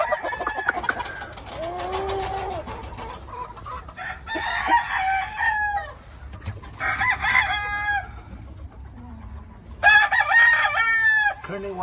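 Kearney White Hackle and Leonred cross chickens call close by, with several loud, drawn-out crows alternating with bursts of clucking, separated by short quieter gaps.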